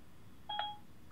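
A single short dialing tone comes from a hands-free call on a Pioneer DEH X7800BHS Bluetooth car stereo, a faint, brief electronic beep over quiet background hiss.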